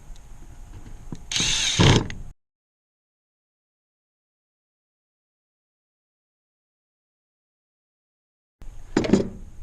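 A power driver sending screws back into the top of a General Pump YG1635 pressure washer pump, heard as short whirring bursts, one at the start and another at the end with silence between.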